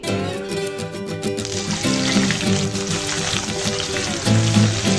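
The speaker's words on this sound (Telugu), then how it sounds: "వేపుకున్న తర్వాత ఒక కప్ క్యారెట్ ముక్కలు వేసుకోవాలి" Carrot pieces and chana dal fry in hot oil with a continuous loud sizzle. A brief clatter near the start sounds like the carrots being added, and no one talks.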